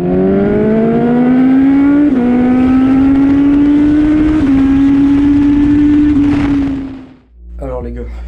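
A motorcycle engine with a newly installed quickshifter running loud and close: a strong, steady engine drone that climbs slightly in pitch, then cuts off abruptly near the end, followed by a brief quieter sound.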